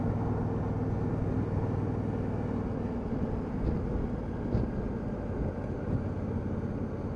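A 2019 Honda CRF1000L Africa Twin motorcycle cruising at a steady pace, its engine a constant low rumble with wind and road noise, no talking.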